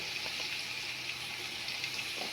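Ginger garlic paste sizzling in a hot pan for egg-laying hen (layer chicken) biryani, a steady close hiss of frying that holds evenly throughout with faint crackles.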